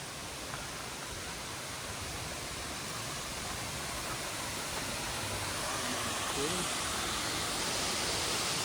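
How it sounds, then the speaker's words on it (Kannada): A multi-layered waterfall near Dharmasthala gives a steady, broad rushing roar that swells slightly louder over the stretch, a continuous wash of falling water heard from close by. "ಇದು ವಾಟರ್ ಫಾಲ್ಸ್ ಹೆಂಗೈತೆ ಅಂದರೆ ಮೇಲೆ ಹತ್ತದಂಗೆಲ್ಲ ಒಂದೊಂದು ಲೇಯರು"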